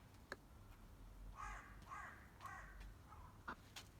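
A crow or magpie caws outdoors in a run of four harsh calls spaced about half a second apart, moderately near over a low steady background rumble, with a few sharp knocks around them.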